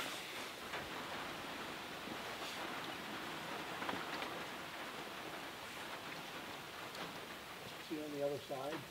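Rain patters steadily outdoors near a camera, a dense hiss with scattered drop ticks, and a voice briefly appears near the end.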